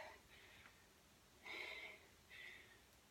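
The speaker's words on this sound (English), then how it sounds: "And you probably hear that I'm breathing now." A few heavy, breathy exhalations after barbell and bodyweight exercise sound close and faint, separated by short pauses.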